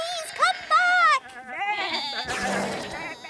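A cartoon sheep bleats in a children's phonics show, two quavering voiced bleats close up, followed by further wavering animal-like cries and a noisy burst at the end.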